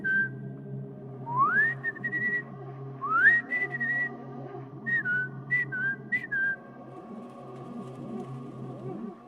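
A person whistles in an attempt to imitate birdsong, giving several rising, warbling phrases and short chirps over a low, steady background hum.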